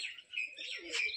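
A pigeon gives a brief, soft cooing call, a couple of quiet warbling notes close by over a still background.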